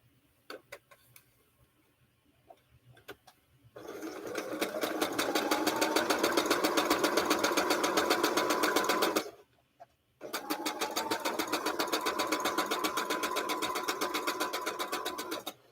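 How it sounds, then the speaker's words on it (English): Sewing machine stitching quilt pieces, a few faint clicks and then two long runs of rapid, even needle clatter, close and loud, separated by a short pause. "Flip your 6x6 pile and sew."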